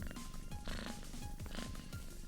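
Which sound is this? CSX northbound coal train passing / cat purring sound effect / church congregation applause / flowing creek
cat purring sound effect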